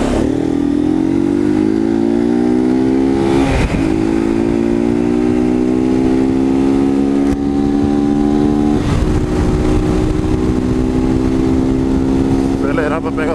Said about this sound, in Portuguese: Acelerar para pegar o sinal verde.